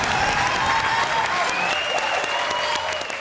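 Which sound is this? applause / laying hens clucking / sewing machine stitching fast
applause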